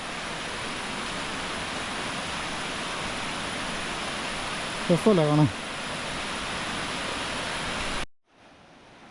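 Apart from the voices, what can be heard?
Thodupuzha river water flowing down from the dam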